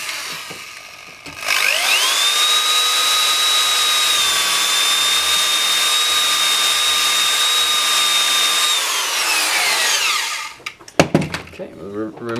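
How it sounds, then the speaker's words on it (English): A power drill with a stepped drill bit spins up and whines steadily at a high pitch for several seconds while drilling into a ski, then winds down, followed by a few clunks. "We will then take the stepped drill bit."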